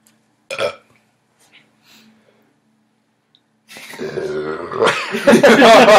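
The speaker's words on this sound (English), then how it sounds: "He's slurping and burping." Human burping: one short, sharp burp comes first, then after a quiet pause a long, loud, drawn-out croaking belch that builds toward the end. The burps are close to the microphone.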